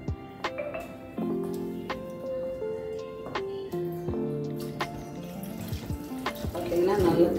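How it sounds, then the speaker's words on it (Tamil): Water runs from a tap as it is added to a pan of South Indian fish curry on the stove, a close trickling stream with scattered clinks and taps of kitchen utensils. "தேவையான அளவுக்கு தண்ணி சேர்த்து வச்சிடணும்."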